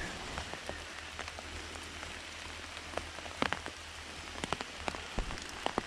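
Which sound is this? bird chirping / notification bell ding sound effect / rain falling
rain falling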